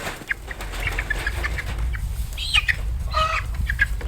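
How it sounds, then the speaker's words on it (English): Chickens clucking nearby in short bursts, with a few louder squawks and faint shuffling, over a low background rumble. "Come here, little chicken."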